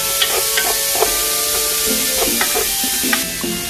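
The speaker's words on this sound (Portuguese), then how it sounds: "adiciono mais um pouco de azeite e refogo uma cebola grande picada até que esteja dourada" A large chopped onion sautés in olive oil in a cooking pot, giving a steady loud sizzle throughout, broken by occasional scraping clicks of a utensil stirring.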